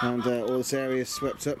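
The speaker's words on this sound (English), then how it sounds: "You have to excuse the noise, you can probably hear the chickens." Hens at an allotment cluck intermittently in the background while someone speaks over them.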